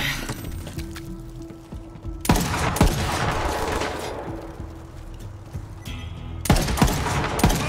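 Burst-fire gunshots in the video game Borderlands 3, sharp loud volleys cracking out in quick clusters with broadband echo and tails, separated by quieter stretches of ambient game noise.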